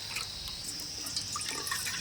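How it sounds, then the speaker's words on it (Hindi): Water is poured from a bowl into green saag in a wok, heard as a faint, steady trickle with small drips over a constant background hiss. "इस बड़े कटोरे से हम 1 कटोरा पानी हरे साग में ऐड कर देंगे पकाने के लिए।"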